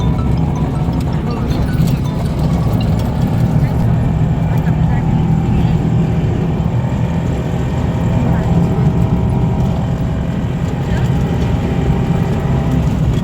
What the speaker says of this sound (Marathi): आम्ही चाललो आहे रिक्षाने.